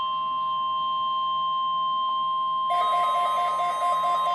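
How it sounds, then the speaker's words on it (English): Emergency Alert System weekly test tone broadcast over the radio, a steady sustained sine tone that shifts to a harsher, busier signal partway through, loud and continuous with no voices. "This is a test of new radio's warning alarm systems."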